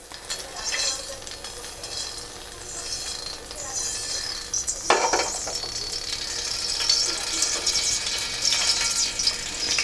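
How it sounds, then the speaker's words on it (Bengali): Refined oil heating in a pan on a raised flame for a simple chicken curry, giving a continuous bright hiss and crackle with a brief metallic scrape midway. "এবার আমরা এর মধ্যে রিফাইন অয়েল দিয়ে দিচ্ছি"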